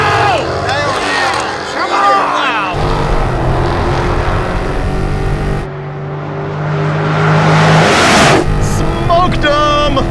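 A drag race car's engine revs loudly and the car spins out at a shootout race, with roaring, shifting engine tones close by and excited voices talking over the noise.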